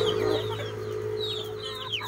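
Joloano native chickens clucking as they eat papaya in a backyard, several short, close clucks and chirps repeating over a steady low hum.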